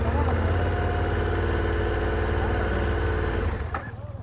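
A motorcycle engine idles steadily and loudly up close, a continuous low rumble that fades slightly near the end, with voices talking over it.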